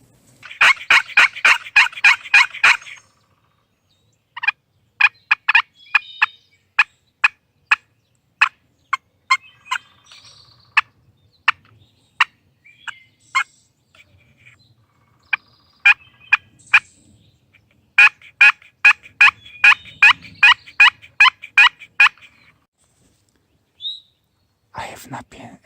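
Repeated bursts of turkey yelps and gobble-like calls, imitating wild turkeys during spring hunting. They come in fast rhythmic series with gaps between them, close and fairly loud, with no talking.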